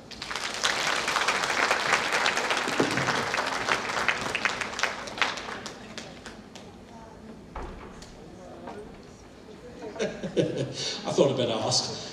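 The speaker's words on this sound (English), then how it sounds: "Thank her, give her a clap." An audience at a psychic fair claps for a palmistry reading, a run of clapping mixed with chuckles and laughter that fades midway, then talk and laughing pick up again.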